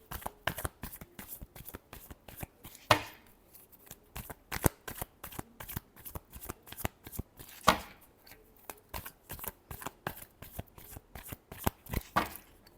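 Tarot cards are shuffled in quick, crisp riffling bursts that repeat steadily throughout, with a few louder slaps of the deck. The sound is close and clear, with no voices.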